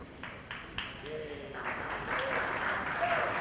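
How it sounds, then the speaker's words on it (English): Audience applause at a regional Young Indians summit session in Vadodara, steady scattered clapping that swells and grows denser toward the end, with faint voices underneath. "I don't know what those claps are for"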